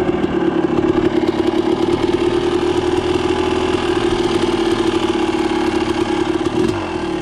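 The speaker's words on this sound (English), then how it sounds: "Idle seems like it could be bumped up a little bit." An off-road vehicle's engine idles on a cold day, a loud, close, steady rhythmic drone that continues unbroken with no voices.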